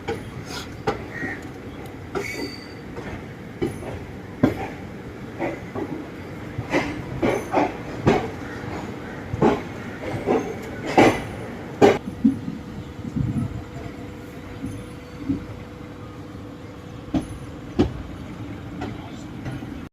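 The Salasar Express passenger train departs on a desert route in Rajasthan, its wheels rolling over rail joints in irregular clunks and clacks, with a rumbling carriage close by and faint voices.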